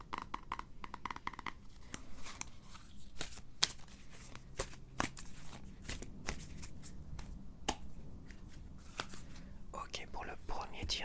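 Tarot cards being shuffled and drawn, with a run of crisp card slaps, flicks and riffles close up, under soft, quiet French-speaking whispers.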